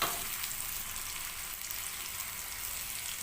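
Dried chilies, curry leaves, onions and garlic sizzle in hot oil as a tempering for village-style raw mango dal, a steady, soft crackling hiss with no talking.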